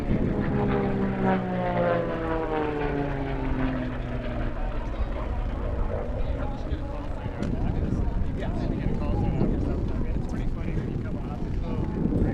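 A propeller racing airplane at the Las Cruces air race roars past, its engine drone sliding downward in pitch as it passes and fades into a broad, wind-buffeted rumble, with people talking over it.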